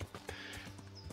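Horse hooves clip-clopping on terrain in the video game Kingdom Come: Deliverance, a quick run of soft, steady hoof beats over a constant background bed, continuous across the short moment.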